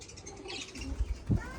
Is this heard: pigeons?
yes